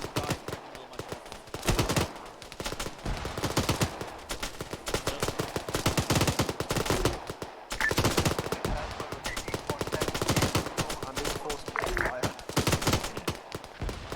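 Gunfire in the video game Arma 3: rapid machine-gun bursts and repeated shots crackle almost continuously, loud and close, with brief gaps between volleys.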